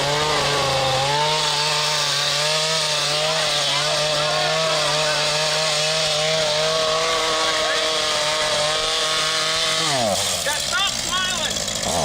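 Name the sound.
chainsaw running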